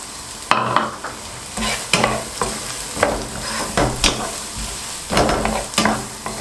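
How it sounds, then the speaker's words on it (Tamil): Carrot, beans, cabbage and chilli stir-frying in hot oil for egg fried rice, with a loud hiss and repeated sharp scraping strokes of a ladle at a brisk, uneven rhythm, close up and without talk. "சூடானவுடனே எல்லா வெஜிடபிளும் நம்ம போட்டிருக்கோம்."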